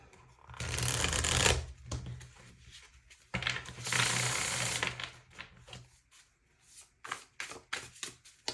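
Tarot cards shuffled by hand, two long riffling bursts of papery flutter followed by scattered taps and slides of cards being handled, close and clear with no talking.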